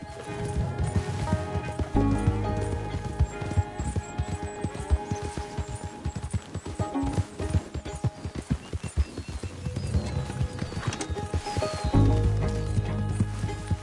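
Horse hooves galloping in Red Dead Redemption 2, a steady rhythmic clip-clop of hoofbeats running on over ambient hum, close and continuous, with faint voices at moments.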